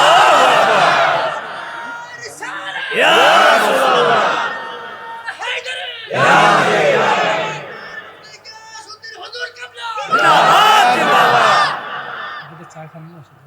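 A crowd at an Islamic waz sermon in Dhaka chants religious slogans in loud, rhythmic surges, each roar rising and then dropping away before the next call-and-response burst.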